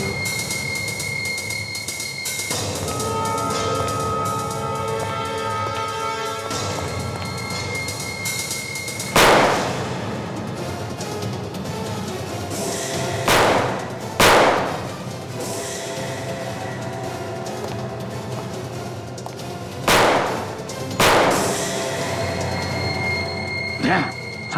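Several sharp gunshots ring out in a tense police shootout, landing as isolated bursts spaced a few seconds apart over a steady background of music and ambience.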